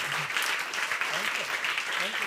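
A church congregation applauds during a worship service, producing a dense, steady wash of clapping from many hands, with faint voices underneath.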